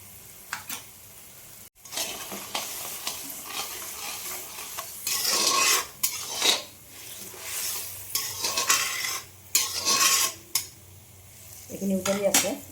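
Fish curry with curd and a little grated jaggery simmers in a pan while a spoon stirs and scrapes it in repeated bursts, with a steady low bubbling beneath and no voices.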